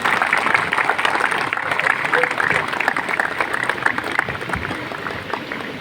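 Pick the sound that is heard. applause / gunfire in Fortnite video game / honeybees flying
applause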